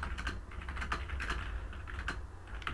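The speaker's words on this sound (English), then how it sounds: "While I'm just typing this out because I'm looking for something" Fingers tap on a computer keyboard in quick irregular bursts of clicks, close and fairly quiet, with short pauses between runs of keystrokes.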